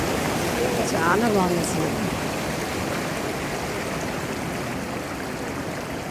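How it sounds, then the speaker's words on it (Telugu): Sea waves washing over rocks at Kanyakumari beach, a continuous broadband rush of surf close by and fairly loud, with a brief voice speaking over it early on. "ప్రతి సెకండ్కి, ప్రతి నిమిషంకి ఒకసారి అలలు వచ్చేలా మా కాళ్ళని తాకుతున్నాయి"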